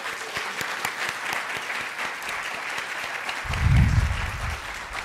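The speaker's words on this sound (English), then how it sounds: "I'd like to give all of them another round of applause" A crowd applauds students at a university Three Minute Thesis competition, with steady clapping throughout and a low rumble swelling briefly near the end.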